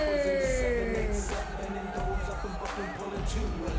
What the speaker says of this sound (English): hear the crowd giving it to him